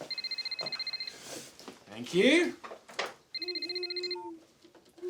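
A mobile phone ringing in a home, two bursts of rapid electronic trilling tones separated by a short gap, close and clear, with a person briefly speaking and some rustling between the rings.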